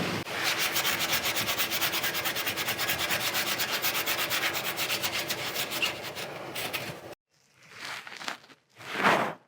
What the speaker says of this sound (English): I'm gonna come in here with a Brillo pad and clean off that rust